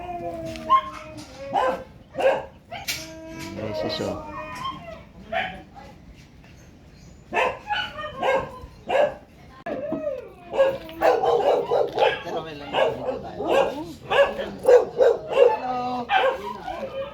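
A Siberian husky barks and yips repeatedly nearby, in irregular bursts, with a few brief words spoken in Filipino between the barks.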